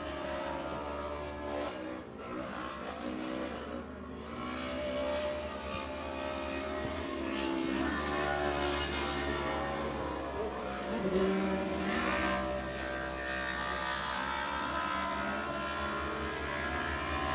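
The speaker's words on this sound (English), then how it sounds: "And Mia Chapman, I found out why that Howdigan car is so loud. Do you know what a glass pack is?" A rally race car with a loud glass pack exhaust roars and revs past on a tarmac stage, a sustained raspy engine note building and fading as it passes.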